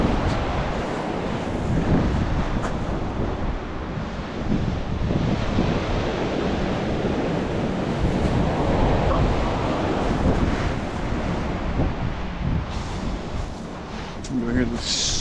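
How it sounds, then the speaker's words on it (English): Sneaker waves surge and crash onto the south Iceland coast in a continuous roar of surf, with strong wind buffeting the microphone throughout. "You hear the sneaker waves. They sneak up on you."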